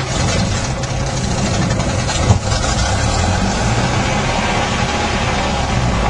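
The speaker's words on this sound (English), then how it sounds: "as soon as the engine catches, we're going to advance the mixture to full forward and pull the throttle back to full" A light aircraft piston engine runs at a steady idle after starting, a loud, continuous low rumble heard close with an even, unchanging drone.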